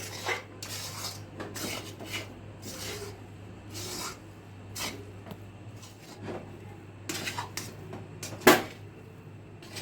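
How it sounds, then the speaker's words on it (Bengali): A spatula stirring gram flour (besan) in a pan, heard as repeated soft scraping strokes at an uneven pace over a low hum, with one sharper knock near the end. "এইভাবে খুন্তির সাহায্যে পুরো বেসনটাকে নেড়ে একটা মিক্স তৈরি করে নিতে হবে"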